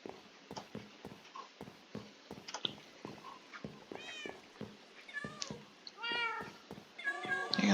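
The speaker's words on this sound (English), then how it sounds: "I got some cats here because I was trying to get the cat achievement." Several cats in the Minecraft video game, kept in a small basement area, meow repeatedly with rising and falling calls over a soft patter of footsteps and clicks, growing louder and more frequent toward the end.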